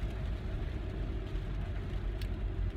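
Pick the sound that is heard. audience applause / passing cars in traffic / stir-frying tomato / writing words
passing cars in traffic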